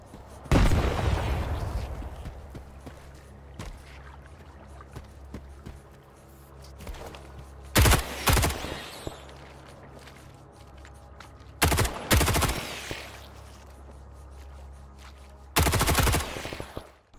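Bursts of gunfire and a grenade blast in the video game Stalker 2: a loud opening explosion, then several separate clusters of rapid shots spaced several seconds apart, with quieter game ambience between them.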